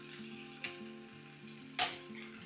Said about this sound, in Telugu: ఇవి లోపల స్టఫింగ్ కోసం మనం ఫ్రై చేస్తున్నాం.